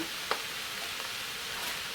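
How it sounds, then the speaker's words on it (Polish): Steady, faint sizzling of cabbage and mushroom pierogi filling frying in a pan, with a couple of soft clicks from stirring, no voices. "ja ten farsz smażę jeszcze"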